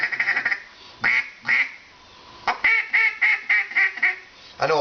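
A mallard feeding call blown on a duck call: a voice-driven imitation of a mallard feeding, heard as short, bright quacky bursts in an uneven rhythm with pauses, fairly close and clear.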